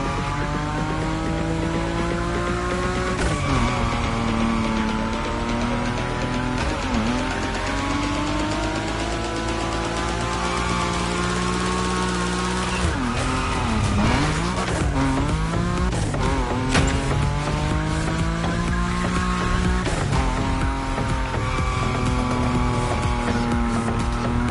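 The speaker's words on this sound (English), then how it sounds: "Your Nismo is powerful enough to slide along on its own when you're at high speed" Nissan Nismo car sliding at high speed in the video game Motorfest, its engine droning steadily with rising and falling pitch sweeps, long tire squeals and skids, loud and sustained throughout with no talking.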